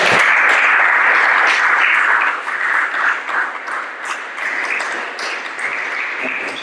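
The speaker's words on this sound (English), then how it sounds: "applause" Audience applause at a museum art exhibition reception, a steady wash of many hands clapping that stays loud throughout, tapering slightly after the first couple of seconds.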